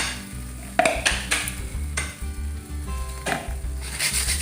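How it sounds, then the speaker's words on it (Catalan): Courgettes sautéing in a pan with a little oil, a moderate sizzle broken by clinks and scraping stirs of a utensil against the pan. "Tot seguit, mentre es couen les patates, salteixem els carbassons."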